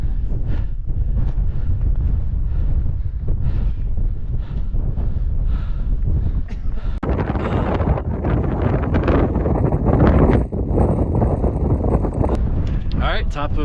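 Strong gusting wind at the top of Trail Rider Pass, a Colorado mountain pass on a trail run, roars and buffets the microphone continuously, with a person talking throughout.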